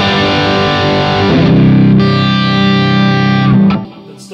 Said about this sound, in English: Sounds like this with the bridge pickup.